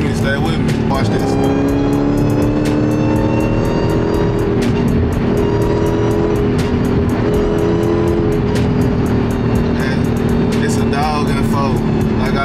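A Dodge Charger SRT Hellcat's supercharged engine roars loudly and continuously, with revving surges and tire squeal over a constant rumble, while people talk intermittently in the background.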